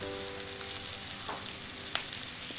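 Onions sautéing with salt in a pan for a yam dish: a soft, steady sizzle throughout, with a couple of faint stirring clicks near the end.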